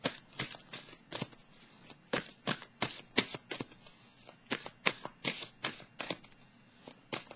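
Oracle cards being shuffled by hand, a series of crisp riffling bursts in an uneven rhythm, about a dozen in a row, close and quiet.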